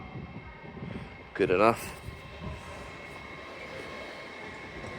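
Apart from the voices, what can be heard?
TransPennine Express class 185 train at York station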